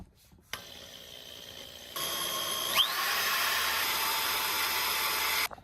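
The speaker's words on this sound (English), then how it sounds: "now we are going to drill" A power drill whirs up close while drilling holes during an aftermarket steering wheel and seat change on a 9th-generation Honda Civic, its high motor whine starting abruptly, stepping up in pitch and running steadily before cutting off.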